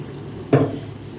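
A short splash of water poured into a pan of cooking prawns, a single brief gush rising out of a quiet kitchen background and fading within a second.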